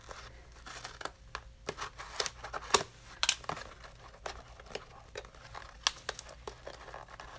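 Close, quiet crinkling of plastic packaging as scissors cut it open, with scattered snips and rustles, small irregular clicks and crackles throughout.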